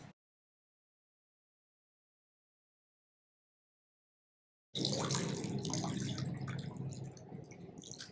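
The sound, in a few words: chicken stock being strained through a sieve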